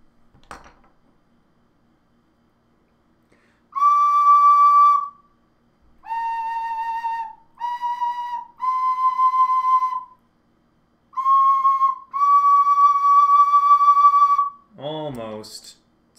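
A handmade ocarina is blown in a series of clear, sustained whistle-like tones, held near and loud with short pauses between them as its pitch is adjusted toward D during tuning.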